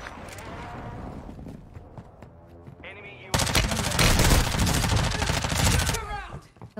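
Gunfire in the Call of Duty Warzone video game: quieter scattered game sounds give way to a loud, sustained burst of rapid shots lasting a few seconds, then fading out.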